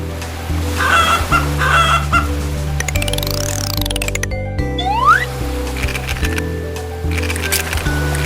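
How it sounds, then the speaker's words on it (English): A hen clucks in a bird puzzle game, repeated clucks over steady game music with electronic sweeps and chimes, fairly loud and close, with no talk. "Hen."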